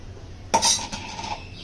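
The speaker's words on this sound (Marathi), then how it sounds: "तर या टोपामध्ये मी पीठ घेते." Urad dal flour drops into a cooking pot with one sharp clatter, followed by a brief rustling hiss as the powder settles.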